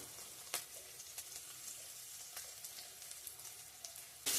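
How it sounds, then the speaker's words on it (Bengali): Ginger, dried chilli, bay leaf, onion and panch phoron fry in oil, a quiet steady sizzle broken by scattered crackles and spatters. "আদা দিয়ে দিচ্ছি দেখতেই পাচ্ছ আদা শুকনো লঙ্কা তেজপাতা পেঁয়াজ পাঁচফোড়ন দিয়ে দিচ্ছি"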